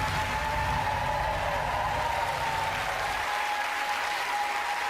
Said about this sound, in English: a round of applause from Interactive